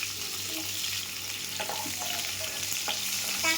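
Onions fry in oil left in the pan, giving a steady close sizzle and hiss broken by a few light clicks and scrapes from stirring.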